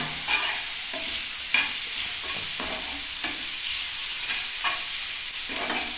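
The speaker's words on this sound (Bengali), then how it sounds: "তেলে নেড়ে নিলাম।" Shredded cabbage stir-fried in hot oil in a pan for a vegetable momo filling, a steady loud sizzle with repeated scraping strokes of a spatula every second or so, close up and without any talk.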